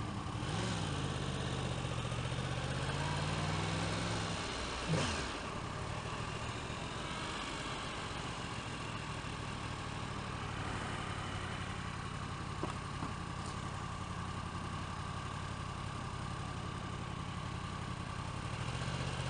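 A 2016 Yamaha R1 sport motorcycle idles in afternoon traffic, its engine holding a steady low rumble throughout, with a brief louder rev or bump near the start and another faint one later.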